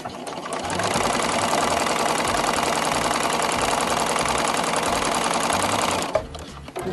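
Sewing machine stitching small fabric scraps together, a loud, fast, steady mechanical whir running for about five seconds before stopping abruptly, followed by faint handling noise.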